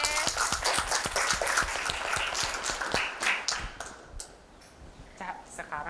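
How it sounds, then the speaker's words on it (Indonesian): A small group in a school claps briefly, scattered hand claps mixed with voices talking and laughing nearby. "tepuk tangan dulu"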